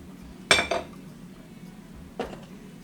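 A spoon clinks against a dish while herbs and powdered spices are stirred together, two quick bright clatters spaced apart with quiet between them.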